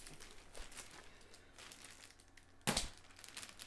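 A large cardboard delivery box is opened by hand, with soft crinkling and rustling of packaging and one sharp tearing rip near the end, all fairly quiet and without any talking.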